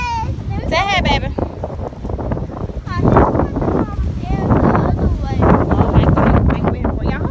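Loud wind buffeting the microphone with low rumbling gusts, while people talk and a voice is heard over it.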